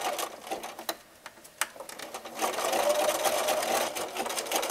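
A sewing machine zigzag stitches across torn garden netting, starting with a few short bursts of stitching and then running in a steady, close, rattling whir.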